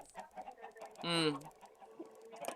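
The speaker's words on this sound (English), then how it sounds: "maybe 60, 70 chickens in here" Chickens on a farm in a video game cluck in short bursts, with one louder squawking cackle near the middle standing out from the scattered background clucks.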